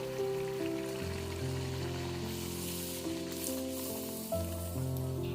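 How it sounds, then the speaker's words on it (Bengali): Kachoris frying in hot oil give a steady, soft sizzle that runs throughout, with a sustained tonal hum layered on top and no voices. "এখন এক এক করে কচুরিগুলো ভেজে নেব"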